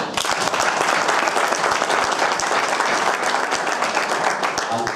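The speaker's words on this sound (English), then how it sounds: "give her a round of applause" Sustained applause from a press conference audience rises and holds steady at full strength for the whole stretch, dense overlapping claps with no pauses, fairly close and loud.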